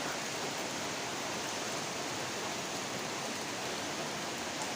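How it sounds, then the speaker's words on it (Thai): Heavy rain pours steadily around a house, a dense, continuous hiss that fills the scene at an even loudness from start to finish with no voices. "ฝนตกหนักเลยครับพี่น้อง"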